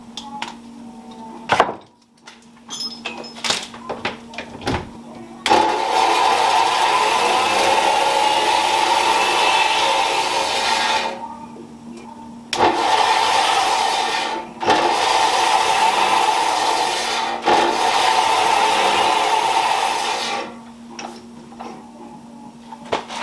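Belt-driven electric motor machine with an old belt and a slightly misaligned motor, whirring loudly in several long stretches of steady grinding hum, broken by short stops and clattery pauses.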